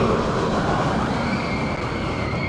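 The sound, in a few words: Capital Bullet Train ride at Motiongate Dubai theme park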